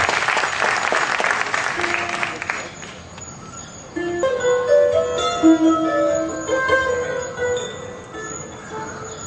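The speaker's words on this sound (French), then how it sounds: "Applaudissez-le comme cela se doit pour ce spectacle." Audience applause at a slam poetry concert fades out over the first few seconds, then sustained musical tones and ringing notes take over at moderate loudness.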